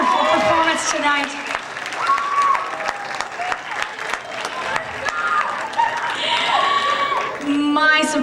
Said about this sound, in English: Please give them one more round of applause for such a wonderful performance tonight.